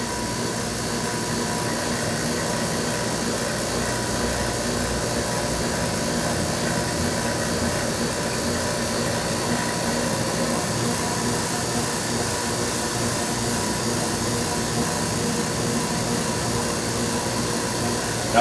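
A vacuum pump runs for a permeability panel test, giving a steady, loud, unbroken mechanical hum and hiss that holds at a constant level throughout, with no voices.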